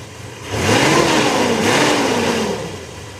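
A Gen 1 Mitsubishi Montero engine running rich revs up from idle, climbs and holds a raised rumbling pitch for a couple of seconds, then drops back to idle, recorded close.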